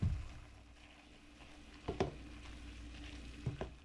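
Slightly frozen vegetables frying in an uncovered pan, a soft steady sizzle with a few quick clinks of a utensil stirring, quiet and close.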